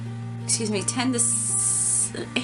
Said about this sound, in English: spray evenly on skin